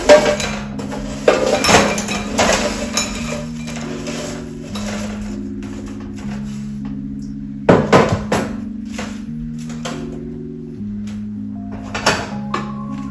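Crispy potatoes from a Gourmia digital air fryer are handled with utensils in a basket or dish, giving sharp clinks and scraping clatter in scattered bursts over a steady background tone, close and moderately loud, no speech.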